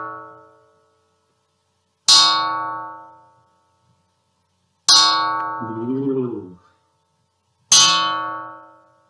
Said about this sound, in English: For me, it's a church bell.